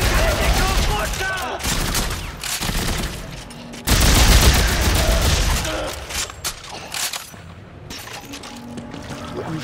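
Bursts of rapid gunfire in co-op play of the video game Dead Space 3, loud crackling volleys that stop and restart, with shouting voices mixed in.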